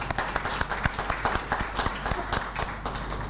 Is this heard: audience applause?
yes